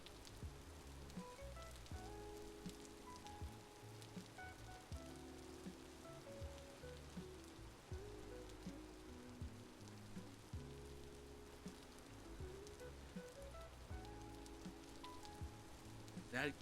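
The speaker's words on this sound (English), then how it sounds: "I'll stay quiet for a bit and just listen to the rain" Steady rain patters continuously in the video game Vintage Story, soft and even, with tonal music notes drifting over it and no talking.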